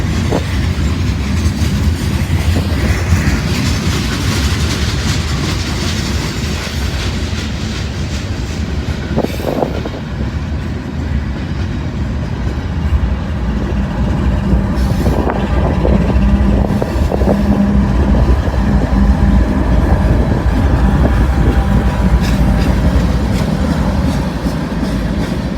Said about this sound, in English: Got a feeling that means this is going to be a long train.